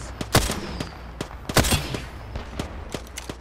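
Apex Legends gunfire crackles in rapid, irregular bursts of sharp shots, loud and close, with some clustered volleys and scattered single reports.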